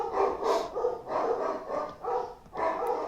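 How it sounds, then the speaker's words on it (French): Dogs bark in repeated short bursts, a steady rhythm of sharp barks and yips, fairly close, with children playing with them. "Il y a les gosses qui jouent avec les chiens."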